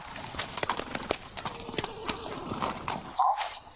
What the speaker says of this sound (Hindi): लगता है ये नया घोड़ा लाया है।